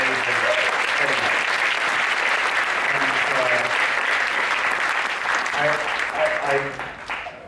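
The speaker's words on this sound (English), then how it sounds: "I'd really like you to give a round of applause" Audience at a Day of the Dead conversation event applauding warmly, loud continuous clapping with voices and some cheering mixed in, tapering off near the end.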